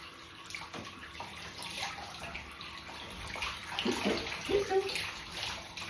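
Shower water runs steadily while a dog is washed in a tub, with splashing and brief knocks rising toward the end and faint voices in the background.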